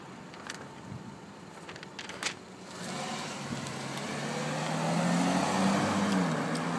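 Car driving by on a road, a faint approaching engine rumble that swells gradually into a steady louder hum, with a few small knocks early on.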